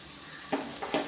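Pirandai (adamant creeper) sautéing in a pan, a steady soft sizzle with two short louder bursts of stirring scrapes near the end.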